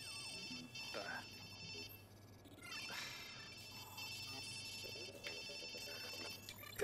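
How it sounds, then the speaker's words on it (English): A synthetic telephone ring repeats in steady bursts over a humming background in Watch Dogs 2, with occasional other game sounds mixed in. "Phone's ringing."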